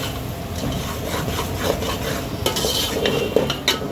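Semolina roasting in Dalda for suji halwa, stirred with a spoon: steady close scraping and stirring with a soft sizzle underneath, with a few sharper utensil knocks toward the end.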